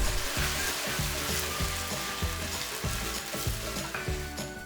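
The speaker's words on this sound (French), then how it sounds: "Ajoutez le bœuf." Beef sizzles loudly as it is stir-fried in oyster sauce, with a steady frying hiss and rhythmic, repeated tossing or stirring strokes throughout and no voices.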